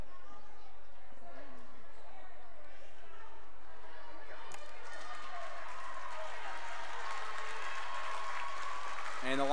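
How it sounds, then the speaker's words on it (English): Applause from the Forest City crowd in a high school gym during a volleyball match against Bishop Garrigan, rising in the second half into broad clapping over background chatter and talk. "gets a clap from the Forest City crowd"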